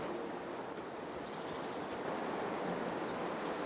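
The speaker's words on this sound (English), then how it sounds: "Am I hearing a waterfall? Or is this the stream really moving? Oh yeah, a little mini waterfall here from the kind of the dam." Small waterfall spilling from a dam on a stream in Kingdom Come: Deliverance II, a steady, even hiss of rushing water with no breaks, fairly soft and close.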